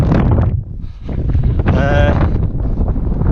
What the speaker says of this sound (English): really are blizzard conditions now